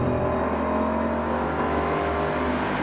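A Ford Mustang Boss 302 engine revs hard on the move, a loud, continuous V8 roar that climbs in pitch and holds steady, close and unbroken throughout.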